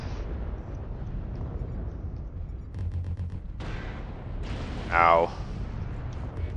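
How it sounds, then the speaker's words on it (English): Incoming missile impacts rattle a Thunderbolt 5SS battlemech in MechWarrior Online, a run of rumbling explosive booms over a steady low engine drone, with a brief pained exclamation from a player partway through. "Incoming missiles."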